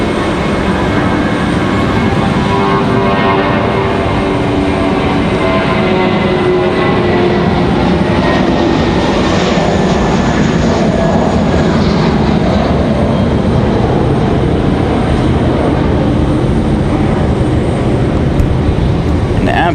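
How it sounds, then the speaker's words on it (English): United Airbus A319 jet departing Raleigh-Durham International Airport, a loud, continuous engine roar with a steady broad rumble and a faint whine sweeping through it, sustained at close range throughout. "Should be a nice departure here for this A319."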